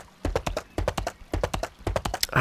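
A horse gallops in the online game Albion Online, its hooves making a steady, close clip-clop rhythm of quick beats that repeats for a couple of seconds.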